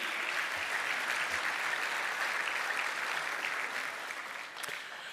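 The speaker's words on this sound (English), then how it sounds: "Please, a round of applause for KPMG." Steady applause from an audience at a luncheon fills the room for several seconds, then begins to thin out toward the end.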